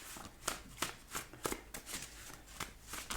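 Tarot cards being shuffled up close, a steady run of quick riffling slaps at a soft level, heard alone without talking.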